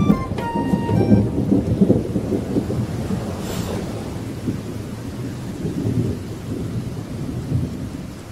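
Heavy rain pours steadily with a deep rumble of thunder rolling underneath, a dense continuous wash of downpour that stays loud and even throughout, no voices.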